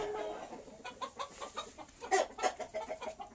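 Kadaknath chickens cluck inside a coop, a mix of soft, close clucks and bursts of louder calls from several birds, fairly faint overall.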